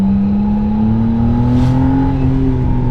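A McLaren Artura held in first gear, its engine droning loud and close with a steady rising pitch, swelling briefly in the middle with a rush of air, then settling back to an even hum.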